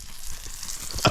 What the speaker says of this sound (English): Bit of a flambe going on here